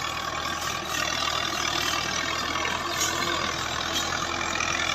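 A FiAT 85 HP tractor engine runs steadily at a constant mid-pitched drone with a faint high whine, close and loud for the whole stretch, no voices.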